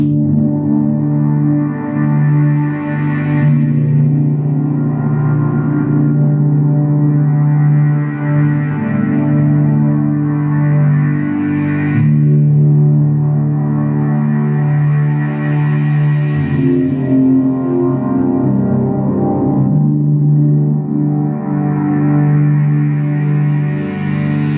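A Meris Enzo guitar synth pedal run through an Eventide H9 adding delay and reverb plays sustained, swelling synth notes, loud and continuous, with echoing tails blending each phrase into the next.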